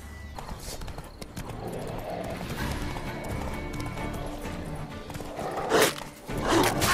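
Rhythmic clip-clop of horse hooves at a trot in The Witcher 3, fairly close, with a brief whinny-like burst near the end.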